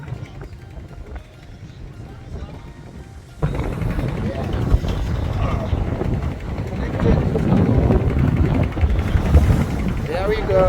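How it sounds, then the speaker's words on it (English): A sailboat's motor engine runs steadily under way near Bora Bora in French Polynesia, a continuous low drone that grows louder partway through, with wind noise buffeting the microphone. "using the motor now, the engine"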